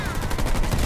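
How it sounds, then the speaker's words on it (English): Rapid gunfire from enemy ground troops in Halo Wars 2, a dense stream of loud shots with battle noise, heard alone. "I'm receiving fire from enemy ground troops."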